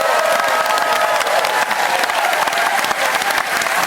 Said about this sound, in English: a round of applause for Jan Preston